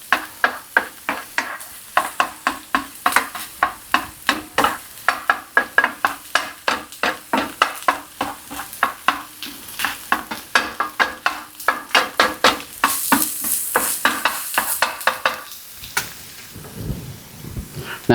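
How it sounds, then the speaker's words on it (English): Garlic fries in butter in a pan while a utensil stirs and taps steadily, producing a fast run of repeated scraping strokes over sizzling, with a brief louder hiss near the end. "And while your garlic is cooking"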